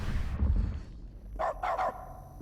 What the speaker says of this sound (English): The bark button.